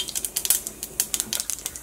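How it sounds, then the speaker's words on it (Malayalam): Mustard seeds with a little cumin spluttering in hot oil, giving rapid, irregular sharp pops and crackles close by with no voices. "ഫസ്റ്റ് നമ്മൾ കടുക് പൊട്ടിക്കട്ടെ."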